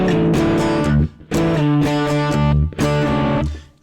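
Electric guitar with distortion plays the bridge of a song, heavy strummed chords in loud bursts separated by short muted gaps, close and without voices.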